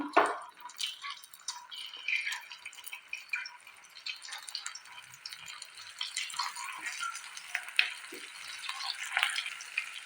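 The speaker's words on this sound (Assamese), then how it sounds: "এয়া গেছত কেৰাহীত তেল দি দিছোঁ" Hot oil crackles and sizzles steadily in a wok, with scattered sharp pops and spatters throughout and no talking.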